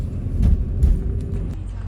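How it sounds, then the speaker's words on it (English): Steady stream of passing cars on a road, a low continuous rumble with two swells as vehicles go by close, an old GMC Denali among them. "There's just a steady traffic of cars"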